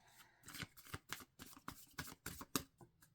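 Tarot cards being shuffled and flipped, a run of crisp riffling and slapping bursts at an uneven rhythm, close and fairly quiet with no talking.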